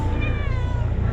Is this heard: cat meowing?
yes